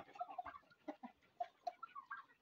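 Young 21-day-old layer and native chickens kept with a pair of turkeys cluck and chirp in short, irregular bursts, faint and close, with no talking.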